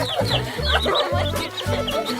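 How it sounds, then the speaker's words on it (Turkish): Several chickens cluck in short, busy bursts close by, with soft chirping mixed in and no talking. "Bakın bunlar gerçek tavuklar."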